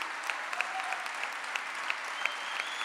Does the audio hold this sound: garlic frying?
no